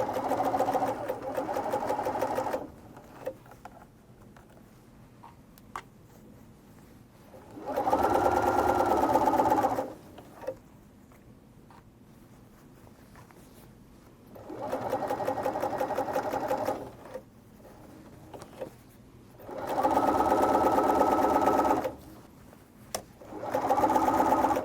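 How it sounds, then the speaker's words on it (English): Sewing machine running a straight stitch along the seam of a half apron, loud steady whirring bursts of a few seconds each separated by quiet pauses, repeated about four times with no one talking. "And we're going to sew the apron on."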